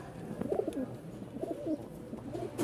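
Rajshahi Giribaz pigeons, a top-quality pair with feathered feet and head crests, give repeated soft cooing calls in short bursts against a low steady background, close by.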